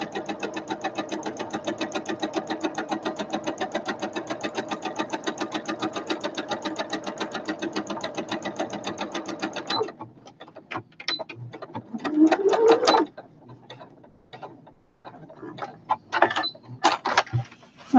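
A sewing machine re-stitching seams on a fabric basket runs in a fast steady rhythmic clatter for about ten seconds, then stops, followed by sparse handling clicks and rustles.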